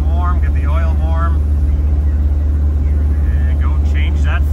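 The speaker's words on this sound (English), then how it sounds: "let's get the engine warm, get the oil warm," Toyota 3B diesel engine idling to warm up before an oil change, a steady, loud low rumble throughout, with someone talking over it.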